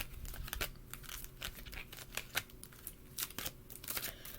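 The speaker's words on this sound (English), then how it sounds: "just kind of do a little quick shuffle from the last reading I just did" A deck of tarot cards is shuffled quickly by hand, giving a quiet, close run of crisp riffling and slapping bursts at an irregular pace.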